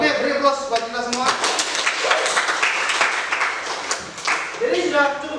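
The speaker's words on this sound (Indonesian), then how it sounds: "beri aplaus buat kita semua" A classroom of students claps together in a short burst of applause. The clapping sounds close and fairly loud, swells briefly, then fades as a voice starts speaking.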